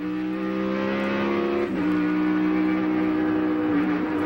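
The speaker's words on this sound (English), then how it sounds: "they come down and hit the line and are on the throttle hard until right about in here when they downshift, start braking for turn 1" NASCAR Winston Cup race cars at Watkins Glen, on the throttle down the front straight then downshifting and braking for turn 1: a loud, sustained high-pitched engine whine with a sharp gear-change dip midway, continuous and fairly close.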